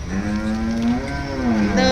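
Cow mooing at the Poigai cattle market in Tamil Nadu, one long, loud, drawn-out low moo close by over a steady crowd murmur.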